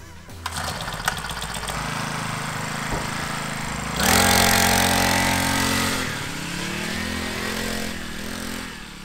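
A 40cc Kickin Dirt Kicker kids' dirt bike engine runs steadily nearby with a buzzy small-engine whine, revving up briefly in the middle before settling back to a steady drone.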